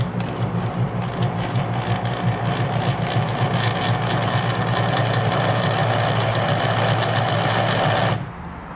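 A Singer 1036 Fashion Touch sewing machine, badly out of time, runs continuously with a loud close rhythmic whirring hum for about eight seconds before cutting off abruptly.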